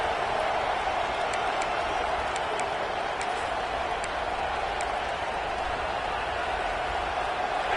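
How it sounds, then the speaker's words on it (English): A stadium crowd in the video game College Football 26, a steady broad roar of cheering and applause holding at even loudness throughout with no clear breaks. "This crowd ready to make its presence known."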